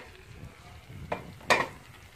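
Lamb liver frying in a pan over a wood fire, a soft steady sizzle with low crackle and two short louder bursts of spattering near the end, close by with no talking.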